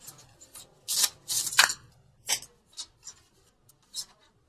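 Tarot angel cards are shuffled by hand in several quick, crisp riffling bursts with short pauses between, close and fairly quiet.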